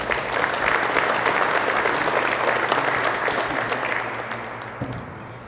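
Audience at a Mr and Miss PA Basketball banquet applauding, a dense, steady round of clapping from a crowded room that gradually fades toward the end.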